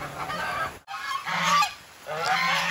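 A goose at a market in Subic honks close by, three loud, nasal calls in quick succession with brief gaps between them.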